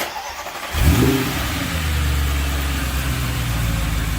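An Audi S6 C7 engine starts up and settles into a steady running idle, loud and close, with a low rumble humming continuously.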